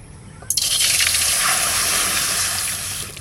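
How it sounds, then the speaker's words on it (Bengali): A little water is poured into a pot while cooking hilsa fish with water lily stems, a sudden splash followed by a steady close pouring gush that tapers off after a few seconds. "অল্প জল দিলাম"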